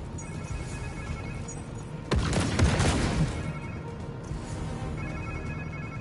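In the Spider-Man 2 video game, a phone rings in a short, loud burst lasting about a second, rising sharply out of steady low game ambience before fading back.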